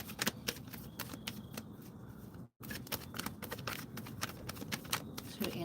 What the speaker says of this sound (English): shuffling for tarot now